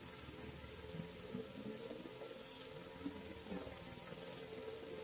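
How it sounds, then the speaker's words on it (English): Rain in the video game DC Universe Online falls as a soft, steady patter of drops on surfaces, faint and continuous with a few slightly louder taps, and no voices. "Oh, it's raining."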